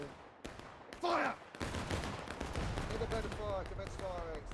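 A company of muskets fires volleys in the video game War of Rights, with loud, ragged gunfire bursts mixed with shouted commands and chatter from several voices.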